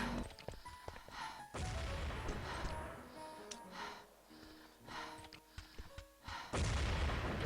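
Grenades exploding in a competitive online shooter match, several heavy booms and blasts mixed with gunfire and other game noise, loud and layered over a few seconds.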